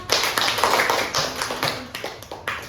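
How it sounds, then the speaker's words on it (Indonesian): Classroom audience clapping after a student's turn, a loose patter of hand claps over about three seconds, fairly near and moderately loud with no voices. "tepuk tangan dulu buat"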